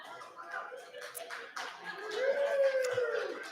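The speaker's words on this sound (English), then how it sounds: "Do you hear that applause? You guys need to clap louder." Audience clapping at a live awards ceremony in Nanaimo, BC, a moderate burst of applause spread through the room, with a voice and some tonal sound over it.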